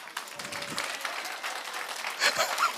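A graduation ceremony audience claps steadily, a dense wash of applause from a crowd at middling distance that swells slightly near the end.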